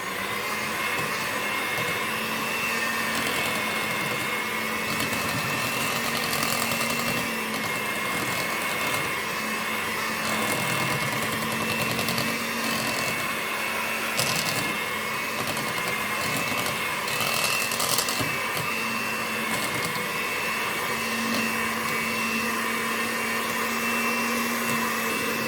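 Electric whisk whirring steadily through carrot cake batter in a home kitchen, a continuous close, even motor drone with slight fluctuations in pitch, running alone without talk.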